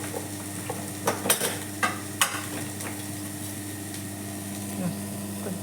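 Momo filling with garam masala, salt and chili cooking in a pan, with a spoon stirring and scraping in a few sharp clicks over a soft continuous sizzle and a steady background hum, nearby and without speech.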